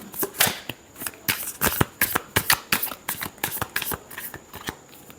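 Tarot cards being shuffled by hand during a reading, a close run of quick riffling and slapping bursts in an uneven rhythm, without speech.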